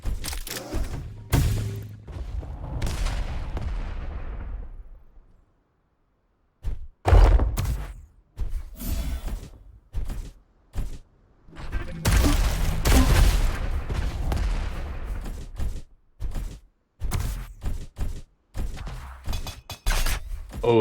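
Grenade blasts and weapon fire in a Quake deathmatch, a series of sharp thuds and bursts in irregular clusters, separated by short quiet gaps.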